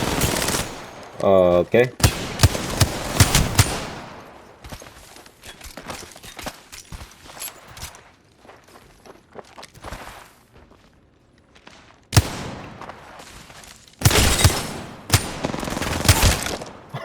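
Bursts of automatic weapon fire from a video game shooter crack out in loud clusters, separated by quieter stretches of sparse shots and faint footsteps, while a voice briefly speaks.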